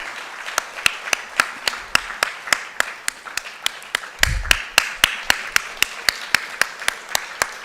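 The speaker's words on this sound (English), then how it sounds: "please give a thunderous applause to mark this moment of celebration" Applause at a logo unveiling during a University of Delhi centenary alumni meet, heard as slow, sharp, evenly spaced claps in a steady rhythm, fairly close and clear over a quiet hall background.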